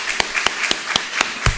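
Single sharp claps repeat at an even pace, about one every quarter second, crisp and fairly close, with no voices, as applause during a church service.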